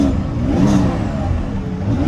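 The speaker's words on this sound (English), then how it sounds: "I like that little burble when you start up" A turbocharged Mercedes 190E Evo build runs close by, its engine giving a steady, throaty exhaust burble with slight rises and dips and no voices over it.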